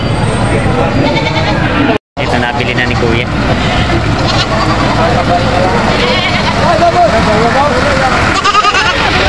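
Boer and Anglo-Nubian goats bleat at a livestock market amid steady crowd chatter, with people talking nearby throughout; a brief silence breaks the noise early on.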